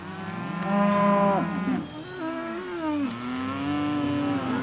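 Dairy cows coming in from a muddy field toward the barn, giving long, loud, overlapping moos, one drawn-out call after another, close by with no talking.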